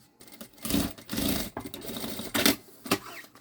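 A sewing machine stitches rubberized synthetic fabric for a backpack, running in several short bursts of clattering needle strokes with brief pauses between them, fairly close and moderately loud with no talking.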